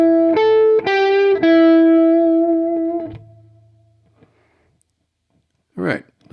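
A distorted electric guitar plays a short classic-rock lick in a moveable hard-rock style, with a note bent up and released, sustained for about three seconds and then fading out, followed by a brief burst of noise.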